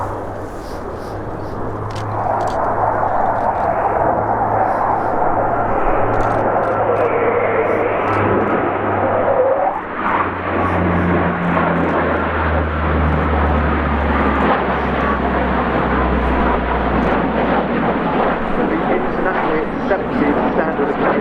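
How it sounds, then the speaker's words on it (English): Austrian Eurofighter Typhoon jets flying at an air show, a loud sustained roar that swells and shifts in pitch as they pass, with a public-address commentator talking over it throughout. "These are the Austrian Typhoons."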